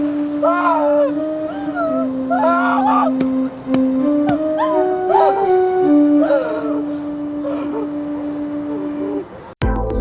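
A dog howling in a Sinhala tele film scene, long wavering howls rising and falling, loud and near, with yips and whimpers mixed in and no talk over them.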